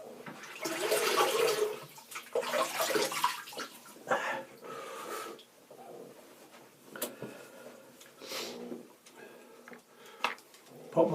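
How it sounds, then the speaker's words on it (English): Water runs and splashes in a sink while a man rinses his face before a shave. The gushing and splashing comes in uneven surges, close by. "So, I'll rinse my face and we'll get started."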